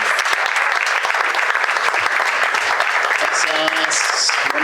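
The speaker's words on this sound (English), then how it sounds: "Give a warm applause to Jose Luis." A warm round of audience applause at a community storytelling evening, dense steady clapping from a sizeable crowd sustained throughout, with a few faint voices underneath.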